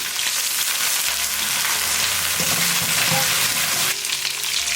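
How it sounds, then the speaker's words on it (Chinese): Duck meat stir-fried in hot oil with ginger slices and a splash of cooking wine, giving a steady loud sizzle with scraping and stirring noises throughout and a brighter hiss near the end. "鸭肉炒到表面金黄，加入料酒，继续翻炒"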